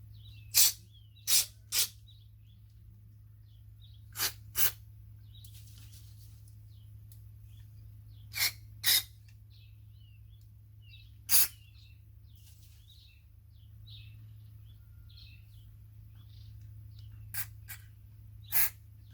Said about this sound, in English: we're going to take our carb cleaner and we're going to clean all the spots on the carburetor